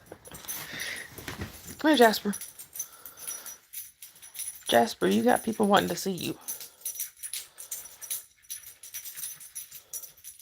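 A dog whines and whimpers in short rising bursts while a person nearby talks to it, outdoors near a home by a battlefield.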